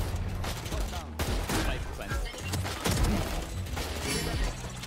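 Gunfire in the tactical shooter Valorant during a competitive match, with dense bursts of shots and impact clatter across the whole stretch, mixed with game effects and occasional voice.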